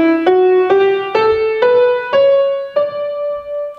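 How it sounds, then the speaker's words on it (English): Seven-note major scale played on an instrument, each note struck separately in a slow ascending run, the last note left ringing and fading. "7 notes of a diatonic scale, otherwise known to most of us as in Western music as a major scale."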